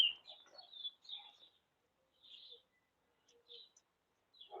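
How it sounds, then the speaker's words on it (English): A blackbird sings outdoors across the road in a series of short, faint, distant phrases with quiet gaps between them, with no other sounds. "Got a blackbird over the road there."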